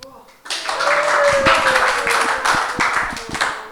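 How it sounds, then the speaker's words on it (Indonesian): Audience clapping at a church youth service, a burst of hand claps starting about half a second in and continuing steadily, mixed with a sustained tone and voices underneath. "Tepuk tangan"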